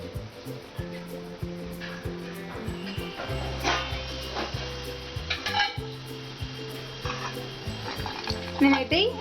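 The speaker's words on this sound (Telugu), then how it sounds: "నెయ్యి ఎంత కరిగిపోయినాక మనకు నచ్చిన డ్రై ఫ్రూట్స్ ఫ్రై చేసుకోవాలి." Cashews and raisins frying in melted ghee for a sweet poha payasam, a steady close sizzle under repeated scraping and stirring of a spoon against the metal pan.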